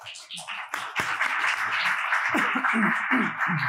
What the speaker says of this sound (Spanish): con un aplauso para toda la mesa